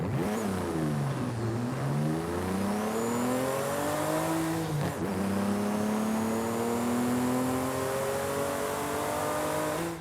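Nissan Stagea RS Four V engine in Forza Horizon 5, revving up and down in repeated sweeps with a steady drone, loud and close, with no talking.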